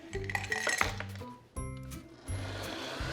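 Ice cubes clatter into a blender jar during chilled corn soup preparation, with a few sharp clinks and knocks in quick bursts over a few seconds at close range.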